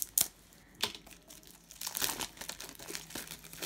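Sealed plastic parcel packaging from AliExpress is opened carefully by hand, with close, faint crinkling and rustling, a few sharp crackles and small tearing sounds, and no talking.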